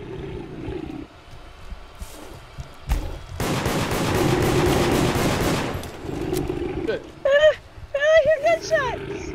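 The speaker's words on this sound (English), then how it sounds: "I hear gunshots!" Gunfire in the multiplayer game Deceit: a sustained burst of rapid shots lasting a couple of seconds, framed by scattered game sounds and a few sharp tonal chirps afterward, with players talking.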